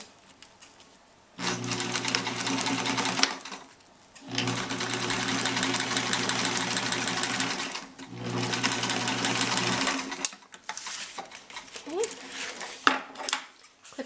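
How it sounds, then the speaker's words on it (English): A sewing machine stitches the seam of a pencil pouch, running in several steady motor bursts of a few seconds each with short pauses between, close and clear, with a little quiet speech during the gaps. "Then the next thing we're going to do, of course, is sew it."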